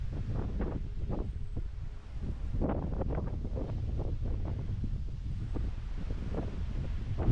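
Steady, strong wind in the hills of the Staffordshire Moorlands buffeting the microphone with a continuous low roar and rumble throughout, no voices, just blustery gusting outdoors.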